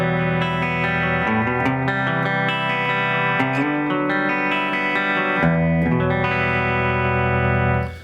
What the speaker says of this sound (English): when I kick it back to the humbucker, you'll immediately hear it'll be louder, a little bit more output.